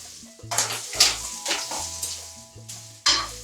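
Ground meat crumbles sautéing in a pan, a close sizzle rising and falling in bursts as a utensil stirs and scrapes, with a faint tonal hum and a sharp final flare of hiss.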